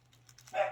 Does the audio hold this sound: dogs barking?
yes